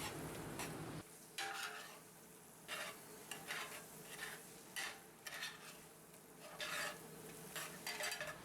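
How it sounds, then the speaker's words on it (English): A butter and flour roux being stirred in a cast iron pan: a soft low sizzle beneath repeated scraping strokes of a utensil, irregular and fairly quiet, with no voices. "When the butter is melted, we add the flour a little at a time and stir it all together to incorporate it."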